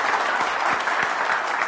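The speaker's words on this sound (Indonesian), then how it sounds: "Tepuk tangan dulu dong semuanya." A crowd at a comedy film scene claps steadily and densely, a continuous loud wash of applause throughout.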